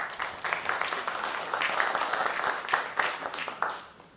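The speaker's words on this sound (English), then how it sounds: "Give him a round of applause" Applause from an audience at a press briefing as the Director of Planning and Development comes forward, dense clapping lasting about four seconds before trailing off.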